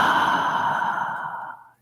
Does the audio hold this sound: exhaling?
yes